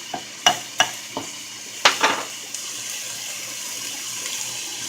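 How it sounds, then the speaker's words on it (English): Red bell peppers and onions cooking in a pan, a few sharp stirring knocks and scrapes up front, then a soft steady sizzle carrying on alone. "Those onions can keep kind of caramelizing and sweating right alongside these peppers."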